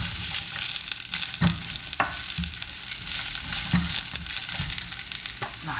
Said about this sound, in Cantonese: 嗱，將啲洋葱爆香佢。